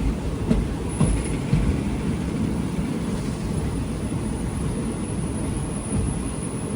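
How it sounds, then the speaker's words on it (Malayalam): The Malabar Express, a sleeper train from Thiruvananthapuram to Mangaluru, rolls along the rails near Kanhangad with a steady loud rumble, faint rhythmic clacks of wheels and a thin high whine over it, heard from inside, with no talking. "ട്രെയിൻ ഇപ്പോൾ കാഞ്ഞങ്ങാടേക്ക് എത്തി"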